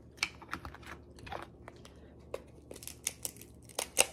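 Steamed crab being cut and eaten, with scattered sharp snips and crunchy cracks of shell, close and fairly quiet, irregular and spaced through a hushed room.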